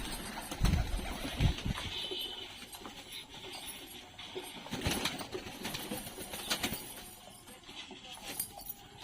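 Pigeons drinking water in a loft shuffle and flutter nearby, with scattered wing flaps, soft coos and light scraping and knocking sounds in the enclosed space.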